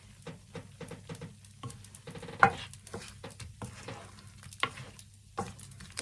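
Shrimp with garlic being stirred in a hot pan, soft sizzling under a string of short scraping strokes from a spoon or spatula, close by and fairly quiet, with no talking.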